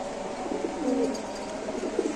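Fancy pigeons at a bird market coo in low, throaty, repeated calls, moderately close, set against a soft background murmur.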